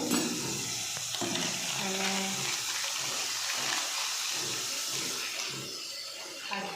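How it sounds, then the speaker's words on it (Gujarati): Chilli fries in hot oil for a tempering in a sev tomato curry, giving a close, steady sizzle and bubbling hiss with a few stirring clinks, fading slightly near the end. "હવે વઘાર કરી દીધો છે હવે મરચું ચડે છે"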